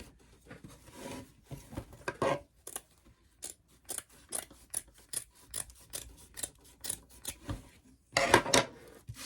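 Scissors cut through burlap in a steady series of close, crisp snips and rasping chops, each stroke distinct, with a louder, scratchier burst near the end.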